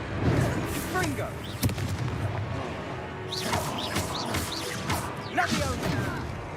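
Confringo fire-blast spells go off in Hogwarts Legacy, a series of loud, booming impacts and crackling bursts mixed with game sounds, with a player's voice heard between them.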